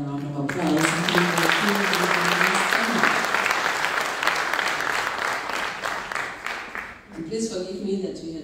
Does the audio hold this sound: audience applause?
yes